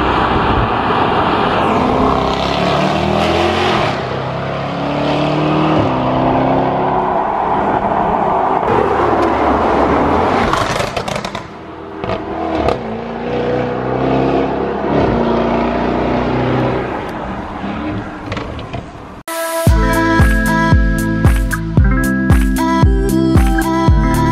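Jaguar F-Type SVR engine starting and revving, a loud sustained roar with rising and falling pitch for about nineteen seconds, then a sudden switch to a sharper, pulsing mechanical sound with repeated bursts near the end.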